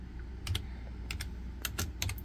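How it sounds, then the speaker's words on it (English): Short bursts of crisp key clicks from a computer keyboard, tapped in a few quick clusters with brief pauses over a faint steady background hum. "then we'll come over to the keyboard and type in macro"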